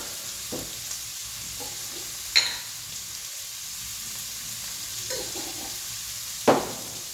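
Onions or similar ingredients frying and browning in a pan for Lancashire hot pot, a steady soft sizzle throughout with a few sharper clinks of stirring utensils against the pan.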